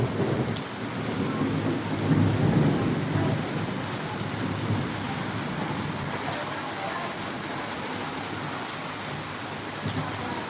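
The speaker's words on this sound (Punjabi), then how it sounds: "ਬੱਦਲ ਗਰਜਦਾ ਪਿਆ" Thunder rolls through a steady heavy rainstorm, with a deep rumble swelling in the first few seconds and then fading under the constant hiss of rain.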